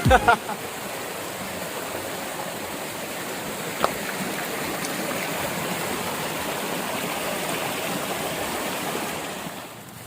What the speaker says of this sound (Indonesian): di belakang saya juga terdapat sungai